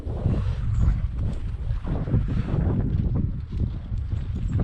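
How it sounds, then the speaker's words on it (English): Strong wind gusts across an open homestead, buffeting the microphone with loud, low rumbling that swells and eases in uneven surges. "Oh, that wind."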